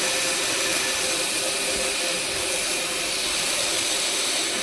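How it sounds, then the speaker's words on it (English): Steady loud hiss of compressed air blasting from a new 80 gallon air compressor, a continuous broadband rush lasting throughout with no pauses. "this is like blasting it way faster than my old compressor"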